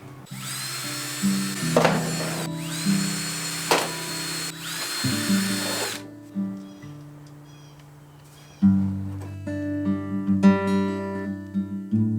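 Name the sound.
power drill drilling holes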